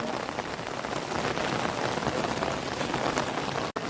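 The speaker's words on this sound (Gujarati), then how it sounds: "તો મિત્રો જુઓ તમે કે વરસાદ વધે જાય, ઓછો થતો નહીં પણ વધે જાય." Heavy rain pours steadily in a village, a dense, loud, continuous hiss of drops striking surfaces close by, with no voices.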